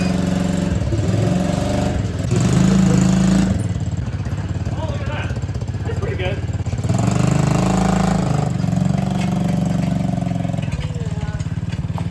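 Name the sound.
mini quad engine running while pulling homemade trailer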